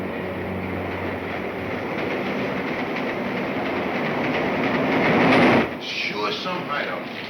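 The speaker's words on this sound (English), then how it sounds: "There's a train coming." A train rumbles along the tracks with a loud, steady roar and rattling clatter that swells and then suddenly drops away.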